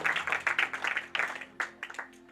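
Applause from a church congregation during a Hindi-language sermon, a burst of clapping that surges and fades in several waves over a low steady hum.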